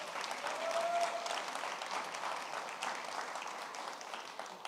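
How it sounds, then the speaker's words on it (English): Steady round of applause from an audience at a leadership institute demo day, a dense, even patter of many hands that holds for several seconds and tapers slightly toward the end, with no talking over it. "Please give them a round of applause for all the love and support."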